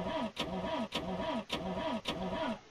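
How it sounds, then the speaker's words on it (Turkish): A car in The Long Drive video game cranks repeatedly, its starter churning in four or five even, rhythmic bursts that never catch, loud and close with no talk. "Arabamızı bir çalıştıralım bakalım."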